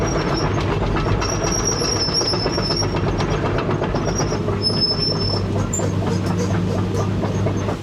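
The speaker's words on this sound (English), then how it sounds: "I do have my really big excavator. Getting her warmed up here." A big excavator engine warming up runs in a steady, heavy rumble with a rhythmic mechanical clatter and faint high whines above it, close and continuous with no talk.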